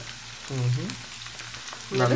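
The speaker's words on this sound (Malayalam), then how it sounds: "ചെയ്ത് വെച്ച ചിക്കൻ നമ്മള് നല്ല എണ്ണയിലോട്ട്, തിളച്ച എണ്ണയിലോട്ട് ഇടുവാണല്ലേ?" Marinated chicken dropping into hot oil for frying, with two bursts of sizzling around the middle and at the end, over a steady low hiss and some faint background voice.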